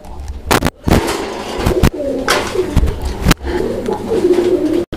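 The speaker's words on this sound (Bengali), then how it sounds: "এখানে একসঙ্গে তিন পিস কবুতর আছে" Three pigeons cooing in low, soft repeated calls, close by, mixed with sharp clattering knocks and rustling bursts throughout.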